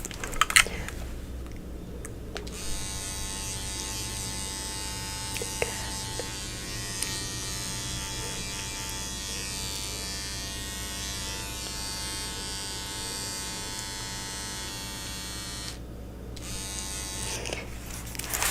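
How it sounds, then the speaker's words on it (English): Close, steady buzzing of electric beard trimmers during a barber-shop shave and haircut, running nearly continuously with brief pauses near the start and end. "I'm gonna use my trimmers one more time just for your beard, just to sharpen it up"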